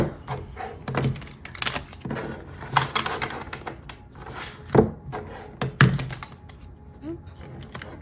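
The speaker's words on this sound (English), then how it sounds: "Cards don't want to shuffle." Tarot cards being shuffled by hand during a reading, a run of dry papery riffles and sharp taps and flicks, close and fairly loud, with a few harder knocks mixed in.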